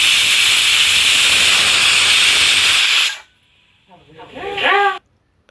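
A pressure cooker cooking leafy vegetable dal releases a loud, steady hiss of steam for about three seconds, then cuts off; a short whistling, chirping burst follows before silence.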